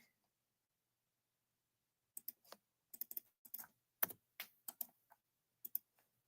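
Fingers type on a computer keyboard in quiet, irregular bursts of crisp clicks and key taps, starting after a short silence, with no voices.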